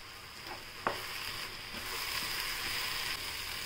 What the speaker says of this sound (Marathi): आणि एकदा परतून घेऊया